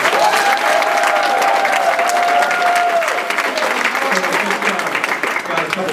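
An audience gives a round of applause for an honoree, sustained loud clapping with crowd noise and a whistle-like tone early on, tapering a little near the end, with some voices mixed in.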